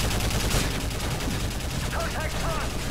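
Sustained automatic gunfire in Call of Duty: Modern Warfare 3 rattles without pause for a few seconds, loud and close, with faint voices buried in the racket.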